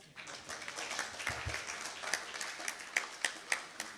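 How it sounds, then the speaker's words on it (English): A small conference audience gives a quiet, sparse round of applause, with individual hand claps standing out distinctly at the end as it trails off. "A round of applause."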